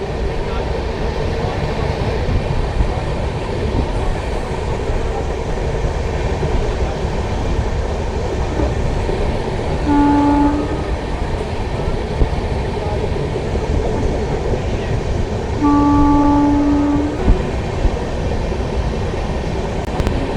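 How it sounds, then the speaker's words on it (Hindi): Steady rumble and clatter of a passenger train rolling into the outer approach of Rohtak station in Haryana, with two brief tonal horn or whistle notes standing out over the continuous noise. "रोहतक स्टेशन के आउटर पे हमारी ट्रेन पहुंच चुकी है।"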